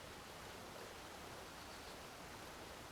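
Flowing water gives a soft, continuous broadband rush, faint and even throughout like a distant stream, with no voices over it.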